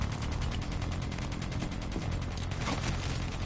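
Rapid bursts of video game gunfire, dense automatic fire and volleys crackling continuously near and loud throughout, with no talking over it.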